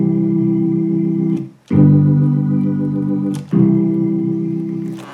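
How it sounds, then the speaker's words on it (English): A digital accordion with bass and chord buttons held down together, giving long, full sustained organ-like tones that break off briefly and restart, close and loud, with no voices. "Or if I held the bass and chord down together, it would sound like this."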